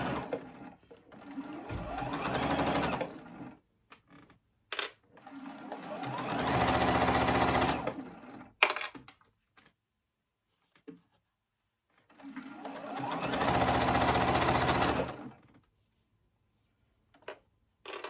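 A sewing machine stitches a thick quilt seam in three long, steady runs of a few seconds each, loud and close, with short pauses and small clicks between them.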